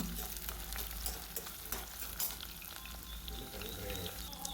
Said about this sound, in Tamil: அது பொறிஞ்சதுக்கப்புறம் வெங்காயம் போட்டுக்கலாம் வெங்காயம் நல்லா வணங்கட்டும்